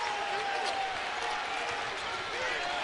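A basketball arena crowd at a Drake Bulldogs game roars and cheers steadily, a dense sustained wall of voices with scattered whistles and claps, loud and continuous throughout without a break.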